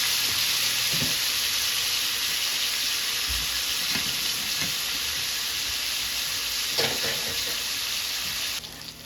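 Meat searing in a hot pan while quesadillas are made at home: a loud, continuous sizzle holds steady throughout, with a few soft utensil clicks and a slight drop near the end.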